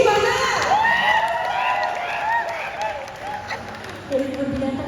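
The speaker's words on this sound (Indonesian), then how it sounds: "Coba kasih tepuk tangan buat Karici mana?" Audience applauding and cheering at a meet and greet event in a Jakarta mall, a dense sustained wash of claps and shouts with whistles and voices mixed in, swelling again near the end.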